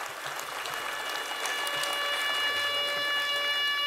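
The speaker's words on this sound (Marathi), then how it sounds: "जोरदार टाळ्या वाजवून आपण या सर्व सुवर्णपदक विजेत्यांचं अभिनंदन करूया." An audience at a university foundation day ceremony gives gold medal winners a sustained, dense wash of applause that holds steady and swells slightly toward the end, with a faint electrical hum underneath.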